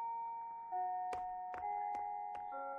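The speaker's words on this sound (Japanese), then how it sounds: "トーカちゃん、チャイムも鳴ったし" A school chime in the PlayStation 4 game Date A Live: Rio-Reincarnation rings out as a sustained multi-tone bell melody. A series of sharp clicks sits on top of it, with no voices present.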